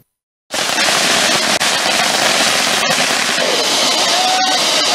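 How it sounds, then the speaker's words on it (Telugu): Loud, continuous crackling bursts of firecrackers set off at a BJP party celebration in Nizamabad district, dense popping sustained for several seconds after a brief silent start. "అనంతరం టపాసులు పేల్చి అందరూ మిఠాయిలు తినిపించుకున్నారు."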